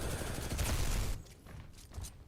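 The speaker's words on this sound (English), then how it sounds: "Here I am just shooting a Titan with a normal gun like a fucking moron." Rapid gunfire from a standard rifle aimed at a giant Titan robot in the shooter game Titanfall 2, a dense loud burst for about a second, then sparser scattered shots and clatter.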